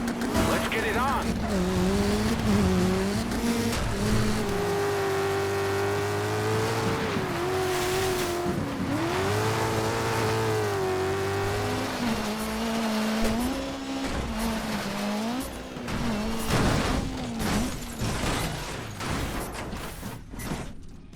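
Race car engines in the DiRT 2 driving game rev and shift through gears, loud and continuous, with tire squeal during slides and a commentator's voice talking over it.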